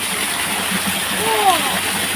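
A steady, rushing wash of water from a waterfall in shady grounds near a shrine, filling the clip evenly with faint voice-like traces faintly above it.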